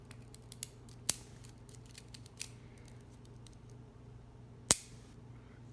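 A part is cut down to length with a few sharp, isolated snaps and clicks, two standing out clearly among fainter ticks, close by in a quiet room.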